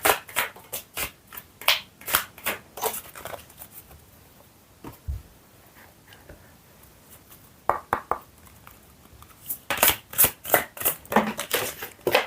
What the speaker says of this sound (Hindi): ओके, मैं और कार्ड्स निकालती हूँ आपके लिए